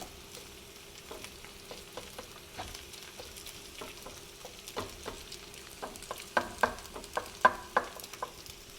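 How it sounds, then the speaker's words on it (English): Chicken fried rice made with leftover rice and rotisserie chicken frying in oil in a pan, a soft steady sizzle broken by scattered scraping stir clicks that grow louder toward the end. "you'll just want to leave it for a bit until it really starts to fry up"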